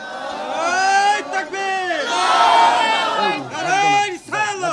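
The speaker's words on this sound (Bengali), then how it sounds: "তাকবীর দেন জোরে" A large crowd at a religious gathering loudly chants the takbir in unison, its massed voices rising and falling in several long, swelling calls close by.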